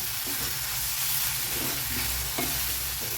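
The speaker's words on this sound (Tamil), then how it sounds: "பாருங்கள், சூப்பராக டீப்பாக ஃப்ரை ஆகிடுச்சு." Capsicum fries in a pan with a constant close sizzle and hiss, broken by a few light stirring scrapes, no one talking.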